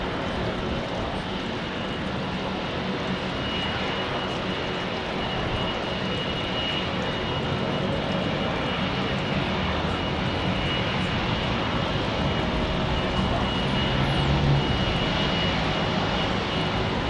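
A jet aircraft takes off at Heathrow, its engines producing a broad, sustained roar that holds steady and swells slightly toward the end, heard from a distance with no talking.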